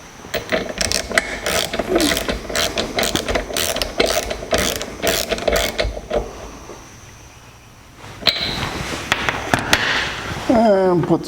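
A spark plug being threaded back into a Toro lawn mower engine gives a fast, loud ratcheting clatter that pauses and then resumes, close up and mechanical.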